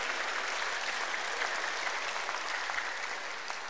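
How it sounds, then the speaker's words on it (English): Steady applause from a crowd at a school chapel service, sustained clapping at an even level throughout with no voices standing out. "Can we give Trent a big round of applause"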